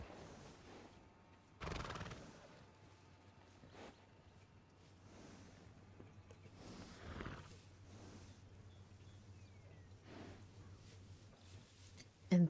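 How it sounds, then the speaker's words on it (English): A Missouri Fox Trotter horse in Red Dead Redemption 2 whinnies in a few separate loud bursts against a quiet low hum, with soft hoof clip-clops in between. "This is a damn good ranching horse, made for working. Man, this is a Missouri Fox"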